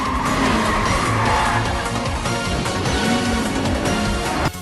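A sport bike drifting in Mario Kart 8 Deluxe gives a loud, continuous tire squeal over a steady engine drone, holding through the slide before cutting off sharply at the end.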